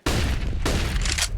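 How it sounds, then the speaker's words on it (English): Counter-Strike gunfire on the Inferno map, heard as a heavy booming burst followed by a second volley and rapid pops, loud and dense with no talk over it. "Gunfire starts to pop off"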